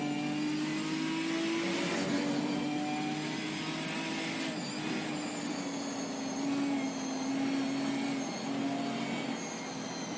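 Race car in Assetto Corsa Competizione on a wet Snetterton circuit at the final corner, engine droning steadily and loudly with rising and falling revs as it brakes and then powers down the straight, with no talk.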